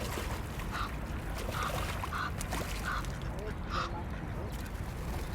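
Ducks quack several times at a distance over steady outdoor ambience and water noise at Hampton Court, the calls spaced irregularly and fairly faint.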